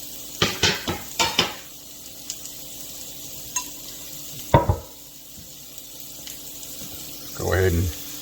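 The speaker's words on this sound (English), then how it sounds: "Go ahead and do the old stir." Chili being stirred in a pot, with a few clinking scrapes of a utensil against the pot near the start, a sharper knock midway and a short burst of stirring and sizzle at the end, all fairly close.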